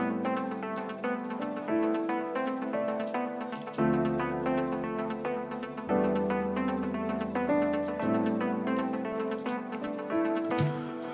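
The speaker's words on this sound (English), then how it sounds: "I use the cinematic piano there" Keyscape cinematic piano chords in an Afro House track: rich sustained chords changing every couple of seconds with bright repeated upper notes, steady and full, with no voices.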